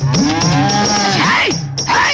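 A buffalo lows loudly and close by in one long, drawn-out moo with a wavering pitch that rises and falls, and a brief break near the end.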